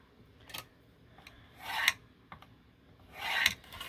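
Paper for a handmade journal is scored half an inch in, with soft close scraping strokes. Two longer rasping passes stand out among light taps in a quiet room.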